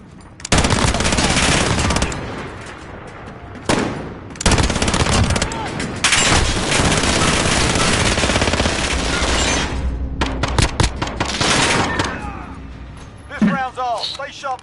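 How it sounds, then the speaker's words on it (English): Rapid automatic gunfire in a video game, loud and nearly continuous bursts with a few short gaps, ending in scattered shots and faint voice-like sounds. "Gunfire."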